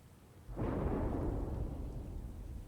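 A deep rumble of thunder swells in after a moment of quiet, rolling on loudly and slowly fading over a couple of seconds.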